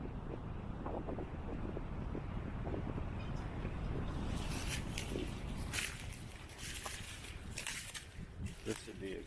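Gusty wind rushes through a pine grove on a hill, a steady broad roar with louder gusts, buffeting the microphone up close.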